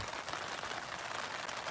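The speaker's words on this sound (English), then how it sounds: "It's a rainy day." Steady rain falls at a cemetery on a wet day, a dense, even hiss of drops pattering on surfaces close by, with no voices.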